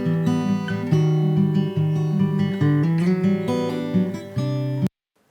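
Strummed acoustic guitar recording, full chords ringing close and steady, with a faint background hiss and computer fan noise underneath, cutting off abruptly near the end.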